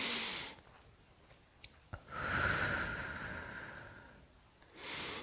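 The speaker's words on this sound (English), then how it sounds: "Inhale, exhale." A person breathing in and out during a yoga forward fold: a breathy exhale, a pause with small clicks, a long audible breath, then another breath starting, close and fairly soft.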